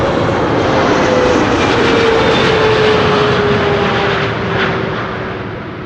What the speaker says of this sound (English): This is KLM flight 758 arriving from Panama City, a 777-300